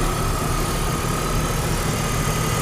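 A 2001 BMW E39 530i engine idles with a steady, even hum and a faint underlying vibration that runs without a break, close by and moderately loud, with no voices.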